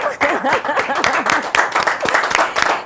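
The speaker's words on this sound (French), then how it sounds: "On applaudit, on applaudit, on applaudit," Students clap in a lively, rhythmic way at a televised student club show, close and energetic, with voices shouting and cheering over the clapping throughout.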